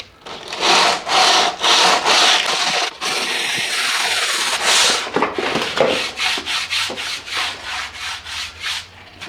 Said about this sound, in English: Get the longboard out, and we'll start sanding it off in just a few.